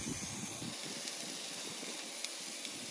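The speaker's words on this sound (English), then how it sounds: "throw this beef in the skillet and then there we go. Sizzle away, sizzle away." Beef sizzling in a skillet with a steady, close hissing crackle that fills the whole stretch, with no talk over it.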